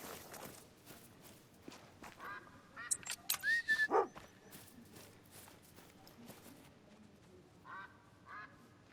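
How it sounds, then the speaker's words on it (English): Wigeon ducks call overhead in a Scotland field, a handful of short whistling quacks around the middle, fairly faint against a quiet outdoor background with scattered rustles and footsteps. "Wigeon everywhere above us."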